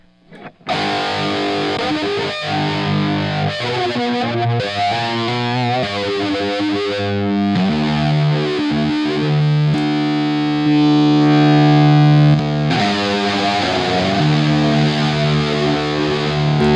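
Electric guitar played through a new pedalboard with only the wet effects signal, giving sustained, distorted chords and notes with a wide chorus-like shimmer, loud and continuous throughout with no talking.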